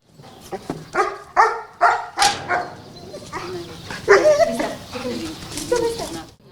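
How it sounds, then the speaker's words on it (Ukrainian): A seven-month-old service dog barks in a short series of sharp, close barks, then continues with softer yips and whimpering noises, with no voices over it. "Це є моя особиста собачка службова."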